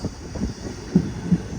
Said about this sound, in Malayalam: ഉസിലാംപട്ടി റെയിൽവേ സ്റ്റേഷനിലേക്ക് ഇതാ നമ്മുടെ ട്രെയിൻ എത്തിക്കൊണ്ടിരിക്കുകയാണ്